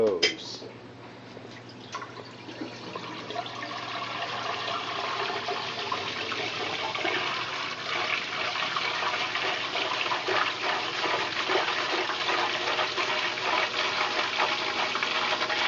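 A Canadian-made Simplicity twin tub washer's spinner starts up, a click followed by water swishing and draining with dripping and sloshing that builds into a steady wet rushing whirr, with a low motor hum underneath.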